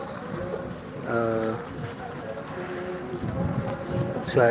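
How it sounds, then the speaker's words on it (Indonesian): Steady wind buffeting the microphone on a beach at sunset, a continuous rushing roar with a voice speaking over it and a louder gust near the end. "Anginnya tidak terlalu kencang lagi, tidak seperti tadi siang"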